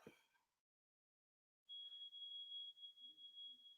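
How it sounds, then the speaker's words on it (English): A neighbor's smoke alarm: a high, steady electronic beep sounds alone after a brief silence, a single sustained tone that stutters into short pulses near the end, with faint low noises underneath. "my neighbor's smoke alarm is going off again"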